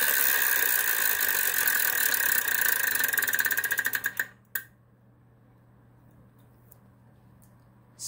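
The Wheel of Fortune game show wheel spins with a rapid clicking that slows into distinct ticks and stops, followed by near silence.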